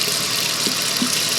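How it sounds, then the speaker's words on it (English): Hot water runs steadily from a faucet inside a 2023 Sunset Trail 331BH camper trailer, a soft continuous splashing hiss with a couple of faint knocks, heard alone. "I turned on the hot water."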